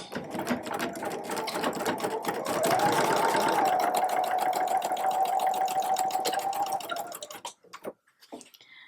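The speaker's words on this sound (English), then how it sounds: "We're going to sew these hems in, and I'm going to show you how I do that." A sewing machine stitches the hems of a drawstring bag casing, running steadily and loudly for about seven seconds with a slight rise in pitch partway through, then stopping, followed by a few quiet handling clicks.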